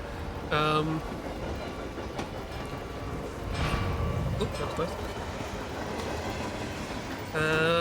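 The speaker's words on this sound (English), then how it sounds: "We're on a train." Rolling train noise from the video game Hitman 3, a steady rumble of wheels on rails with a few brief metallic bursts, continuous underneath a voice that speaks briefly.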